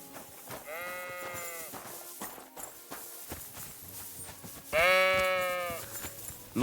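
Sheep in the video game Kingdom Come: Deliverance 2 give two distinct bleats, the second louder and closer, amid soft hoof clopping and farmyard movement.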